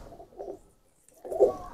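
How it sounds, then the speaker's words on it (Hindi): A pigeon coos close by in two short, soft, throaty bursts separated by a brief pause, with no other sounds. "ये हीनो कबूतर है।"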